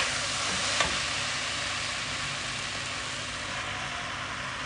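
Pasta sauce seasoned with oregano sizzles steadily in a pan while it is mixed, making a continuous close frying hiss with a faint scrape or tap early on.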